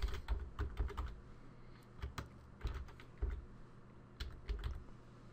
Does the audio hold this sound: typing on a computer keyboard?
yes